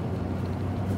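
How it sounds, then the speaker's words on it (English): A car's exhaust gives a deep, steady low rumble close by, continuous and even for about a second with no voices over it. "Can you guys hear that exhaust?"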